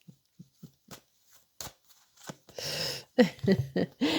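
A tarot deck is shuffled by hand before a card is drawn, first a few soft isolated taps, then a dense close riffling rush that swells and flutters toward the end, with no voices.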